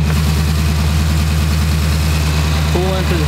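A Jeep 392 V8 engine idles up close, a loud, even low rumble pulsing steadily throughout, with a person's voice briefly heard near the end.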